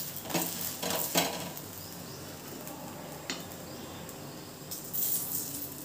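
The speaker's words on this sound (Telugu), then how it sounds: "కానీ నేను ఆయిల్తో కాలుస్తున్నాను" An aloo paratha frying in oil on a pan, giving a continuous close sizzle broken by a few scraping strokes and light clinks of a utensil against the pan, with no voices.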